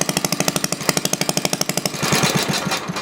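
An antique 1948 Briggs & Stratton WMB engine runs indoors, loud and close, firing in a rapid steady chug, then the beat breaks up into a rougher roar as it is shut down.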